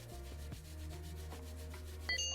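A thick brush scrubs over a phone during cleaning, giving a steady close-up rubbing and swishing texture over a low constant hum, with a faint clack near the end.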